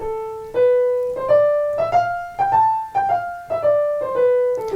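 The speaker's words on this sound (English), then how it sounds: "go home and practice this in dotted rhythm and sound something like this" A piano plays a short run of single notes in an uneven long-short dotted rhythm, each note ringing briefly before the next, clear and close; practice of Chopin's Étude Op. 10 No. 12, "Revolutionary".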